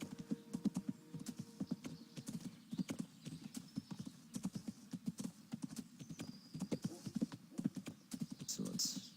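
Horse hooves clip-clop in a steady galloping rhythm as a rider travels on horseback in the video game Kingdom Come Deliverance, fairly quiet, with an occasional faint whinny and talking layered over it.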